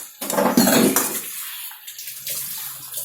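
Water pours into a pan of chicken curry, a loud splashing gush over the first second that fades into a softer trickle and faint sizzle, with no talking.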